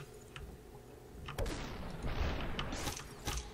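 Gunfire in the video game SuperHOT: several sharp, booming shots land in quick succession over a low background hum, with no speech.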